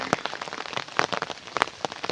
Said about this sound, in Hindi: वो वाली बारिश भी नहीं कि थोड़ी देर रुक जाती